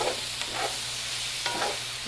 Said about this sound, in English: just stir it around, let the fragrance come out